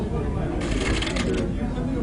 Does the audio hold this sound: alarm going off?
no